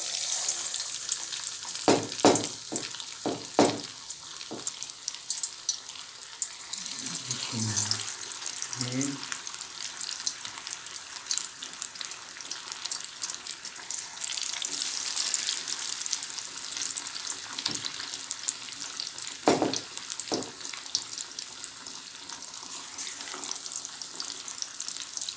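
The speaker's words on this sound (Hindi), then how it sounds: "अभी इसके अंदर ये जो हमने अभी मछली को मसाला लगाया था, ये हम इसके अंदर डालेंगे" Masala-coated fish fries in hot ghee, a steady, moderately loud sizzle running throughout, broken by a few clunks and knocks, with a brief voice partway through.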